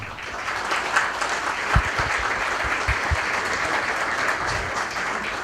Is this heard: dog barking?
no